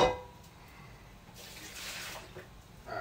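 Water runs into a pot on the kitchen stove, filled about halfway to cover pasta. The steady stream is moderately quiet and swells in the middle of the clip, with a faint clatter at the start and no talking.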